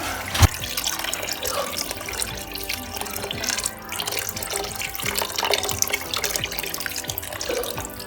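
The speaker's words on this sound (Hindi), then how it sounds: "अब हम इसमें 1 लीटर पानी शामिल कर देंगे।" Water is poured into a pot of chicken nihari after the meat has been browned, giving a steady, continuous splashing pour at close range that runs for several seconds with no voices.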